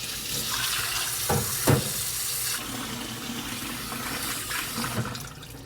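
Running tap water splashes steadily into a sink as peeled boiled eggs are rinsed, a continuous close wash with a few brief louder splashes.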